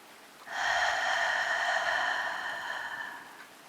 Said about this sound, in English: I'm going to breathe in as deep as I can. And then exhale.